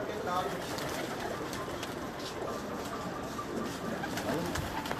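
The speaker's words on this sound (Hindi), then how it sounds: "है बैठी कबूतरी, है बैठी कबूतरी" A female pigeon coos softly as it settles on a perch outdoors, low repeated calls heard at moderate distance under background noise, with voices chatting nearby.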